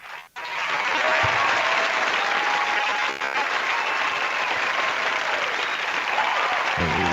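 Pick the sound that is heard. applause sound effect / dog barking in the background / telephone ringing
applause sound effect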